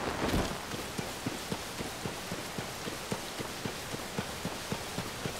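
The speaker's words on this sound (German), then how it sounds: "Warum regnet es eigentlich schon wieder?" Steady rain hisses through the open world of the video game Zelda: Tears of the Kingdom, with a regular, close clip-clop of horse hooves pacing beneath it throughout.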